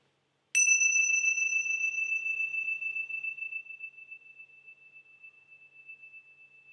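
A single strike of a meditation bell rings out clearly in silence, a pure sustained tone that fades gradually over about six seconds, with no voices.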